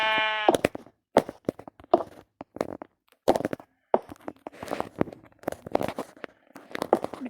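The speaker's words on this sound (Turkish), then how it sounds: "Koyuncuk bir çekil bak öldüreceğim" A Minecraft sheep gives one short bleat at the start. Scattered clicks and crunchy game sounds follow, some of them quick and irregular.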